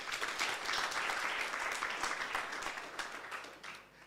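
Delegates at a municipal post-audit symposium applaud the panel, a full round of clapping from a sizable audience that stays steady and then gradually fades toward the end.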